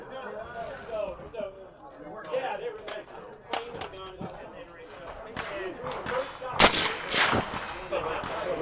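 Gunshots ring out at an outdoor shooting range: a few sharp, loud reports that stand out, including one especially strong crack, over steady talk and background range noise.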